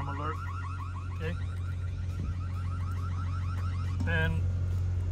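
A 2024 Volvo VNL860 semi truck alarm warbles in repeating rising sweeps over a steady low engine hum, with a brief sharper chirp near the end.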